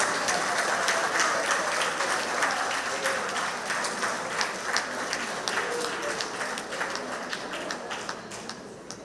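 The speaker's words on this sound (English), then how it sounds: "I think you deserve another round of applause." An audience at a community centre meeting gives a round of applause, sustained dense clapping from many hands that holds steady for several seconds and then gradually thins and softens toward the end.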